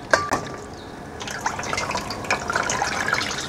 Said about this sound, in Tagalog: At i-drain lang po natin yung tubig niya.